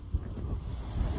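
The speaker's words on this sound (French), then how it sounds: "dehors il caille, il y a du vent, c'est super" Steady outdoor wind buffeting the microphone, a low continuous rumble with gusts, on a cold day; no speech.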